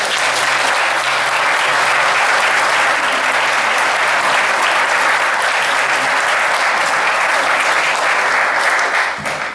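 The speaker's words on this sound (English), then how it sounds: "Let's give a round of applause." At the opening of an annual amateur art exhibition at an arts center, an indoor audience gives sustained, dense applause. The clapping stays loud and even for nearly ten seconds before it begins to fade.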